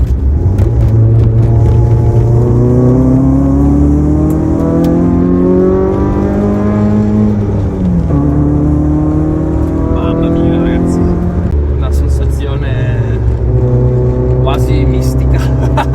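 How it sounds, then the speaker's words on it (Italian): A naturally aspirated Peugeot 106 Rallye or Saxo VTS engine revving loudly from inside the car, pitch climbing through repeated sweeps and gear changes, then dropping and rising again, with brief speech underneath. "Poi il motore aspirato così che urla, spettacolare."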